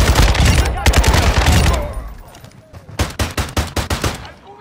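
A burst of gunfire opens loud and dense, dies away, then returns as a rapid string of about eight close, sharp shots. Combat shouts can be heard faintly around it.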